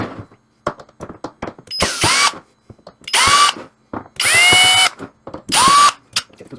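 A power drill backs screws out of a Mod 1Up Pac-Man arcade control deck, whirring in four sharp bursts with short pauses and faint clicks between them.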